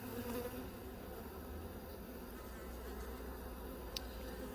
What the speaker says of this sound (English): I'm just going to shake these bees off.